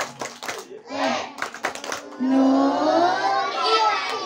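Children perform the tepuk santri clapping chant at a group performance, with rhythmic bursts of hand claps mixed with young voices chanting and shouting, followed by a sustained sung or called-out vocal passage.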